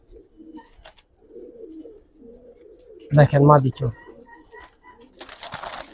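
Giribaz pigeons coo softly and close by as someone talks between the calls, with one louder burst of voice partway through and a rustle near the end.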